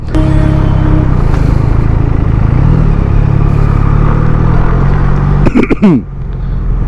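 A 2023 QJ Motor SRK 400 twin-cylinder naked bike rides steadily over a broken, potholed road, its engine and wind noise droning loud throughout, with a brief burst of clatter and pitch change near the end.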